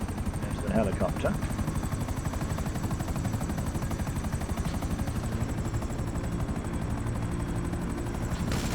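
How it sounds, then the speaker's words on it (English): A helicopter in the video game Defend Titan, its rotor a steady, fast thudding drone that fills the whole stretch at an even, loud level, with a brief sharper flutter near the start. "There's the helicopter."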